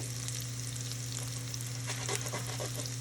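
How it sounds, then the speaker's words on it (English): Pork sausage and Italian seasoning sauté in a pan for risotto, giving a steady, close sizzle with a few stirring scrapes near the end. "we're just gonna go ahead and saute that for a second"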